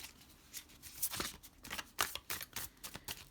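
Tarot cards being shuffled, a run of soft papery riffles and taps in an uneven rhythm, close and fairly quiet, with no talking.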